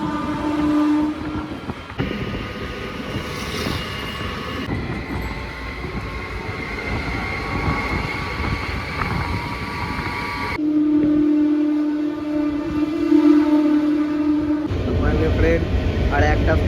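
A Purulia–Howrah local passenger train runs on rails in West Bengal, its loud continuous rumble and wheel clatter filling the carriage, with a steady tonal whine in places and people talking over it.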